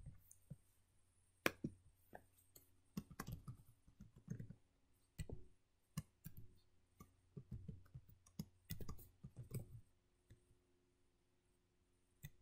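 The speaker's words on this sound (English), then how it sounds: "Then I'm going to type this into my code." Code being typed on a computer keyboard during a robotics lesson: close, crisp key clicks in irregular bursts separated by short pauses, with no one talking.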